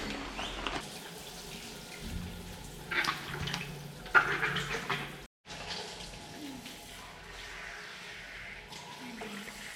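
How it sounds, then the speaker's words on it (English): Shower water runs steadily inside a Four Wheel Camper parked in cold New Mexico, a continuous hiss of spray with a brief cutoff midway before flowing again, close and moderately loud. "Finally a shower."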